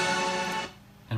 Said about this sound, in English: And reversed, it sounds like this.